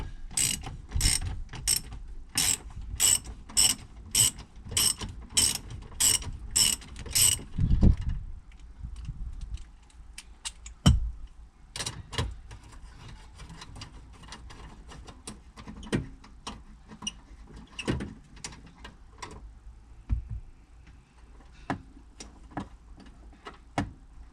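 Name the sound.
ratchet removing 10mm bolt from battery bracket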